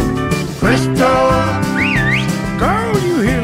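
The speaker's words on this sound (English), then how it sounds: "you hear that whistle?" A person whistles a sliding, wavering tune up close, with loud musical backing underneath.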